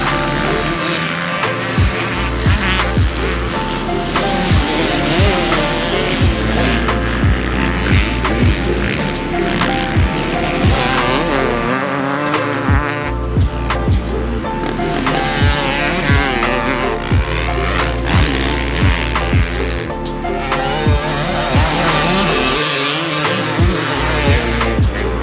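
A 2024 KTM 300SX fuel-injected two-stroke dirt bike being ridden, its engine droning loud and continuous with rising and falling revs as the rider works the throttle, close to the mic throughout.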